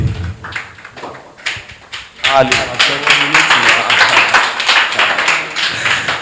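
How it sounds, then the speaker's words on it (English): Round of applause at a UTME 2024 orientation program, starting as scattered claps under a speaking voice and swelling into dense, sustained clapping from a crowd that continues to the end. "A round of applause once again."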